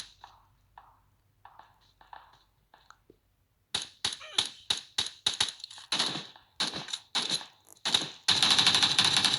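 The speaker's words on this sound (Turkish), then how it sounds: "Lan arkadan sıkıyor şerefsiz." Gunfire in the mobile battle royale game PUBG Mobile, coming from behind the player: after a few seconds of faint scattered ticks, loud close bursts of rapid shots erupt in uneven clusters, ending in a dense, sustained volley.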